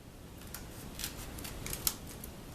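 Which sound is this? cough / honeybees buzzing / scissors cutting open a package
scissors cutting open a package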